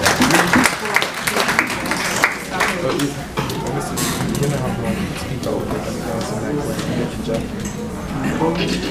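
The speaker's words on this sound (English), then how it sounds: "Give him a round of applause, ladies and gentlemen" Audience applause for a presenter at a disabilities conference session, a steady wash of clapping lasting throughout with crowd noise and some voices mixed in.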